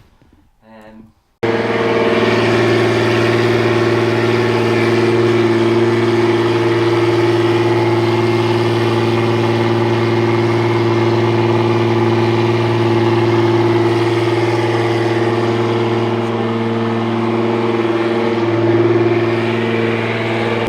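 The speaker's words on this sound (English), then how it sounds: "Basically the car is now on the Pro Hub dyno" A loud tuned 2000 hp Nissan GT-R engine runs steadily at high revs on a hub dyno for about twenty seconds, a sustained deep drone with strong harmonics after a brief quiet start.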